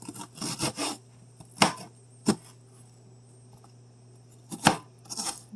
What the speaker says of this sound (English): Be careful and keep an eye on your fingers when you cut your onion.